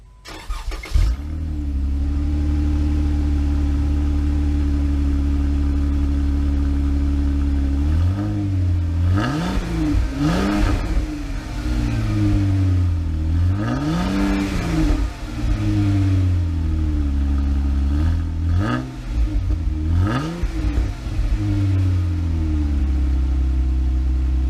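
A Jeep JK fitted with a Dynomax axle-back exhaust cranks and fires up, settling into a loud, deep idle, then revs up and falls back several times, with the exhaust note rising and dropping, close and dominant throughout.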